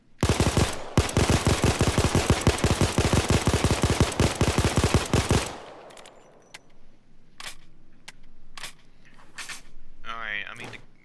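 Glock 17 pistol, called the Chimano 88 in the Payday 2 video game, firing a fast, loud string of shots for about five seconds, then a few scattered mechanical clicks and clacks.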